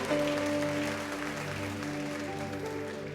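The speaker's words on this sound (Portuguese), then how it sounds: "Melhore o seu aplauso ao Senhor" A congregation claps during a communion worship service, a steady broadband patter sustained over soft held musical tones, fading slightly partway through.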